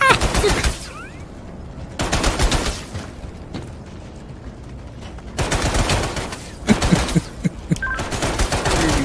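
Heavy automatic gunfire in a video game, loud and close, coming in long sustained bursts separated by brief lulls, with sharp individual shots cracking near the end.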